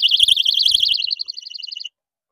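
A 130 dB personal alarm shrills outdoors in a loud, piercing, rapidly warbling high tone that pulses steadily for about two seconds and then stops abruptly, with some low thumps of handling underneath.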